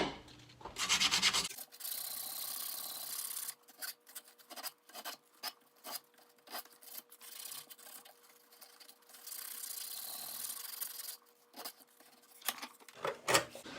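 Hand smoothing of a rattan sword for SCA combat: scratchy rasping strokes, a long steady pass at the start then a run of short repeated rubs with brief pauses, close and fairly quiet.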